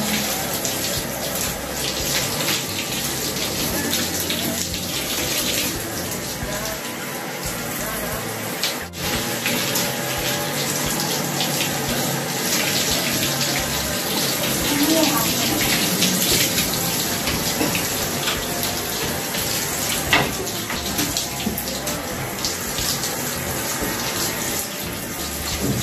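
Water pours steadily from a tap in a home bathroom for a long, continuous stretch, a loud, even rush with no break and no talk over it.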